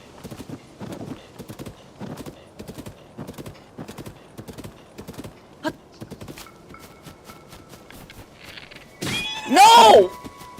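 Horse hooves clip-clopping at a steady rhythmic gait while riding in the video game Zelda: Tears of the Kingdom, ending in a loud burst with a horse's whinny.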